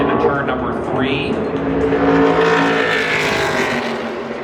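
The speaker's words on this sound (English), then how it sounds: "He takes his Napa Chevrolet into turn number 3." A Napa Chevrolet NASCAR Craftsman Truck Series truck drives into turn 3 at Phoenix Raceway during qualifying, its engine a loud, sustained buzzing drone that holds steady, then fades slightly as it pulls away.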